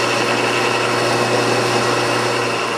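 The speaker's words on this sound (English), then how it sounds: "I'm just going to go back to plan A and drill this out" A power drill whirs at a steady high pitch, running continuously up close as it drills out a bolt on vintage shop shears.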